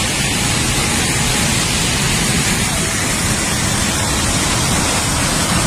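Water rushing out beneath a water-powered flour mill that grinds grain, a dense, steady broadband roar like a small torrent, loud and close, unchanging for the whole stretch.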